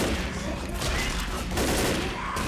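Dense, rapid bursts of gunfire in Left 4 Dead fill the clip, loud and continuous, with a chaotic, noisy backdrop of an approaching horde.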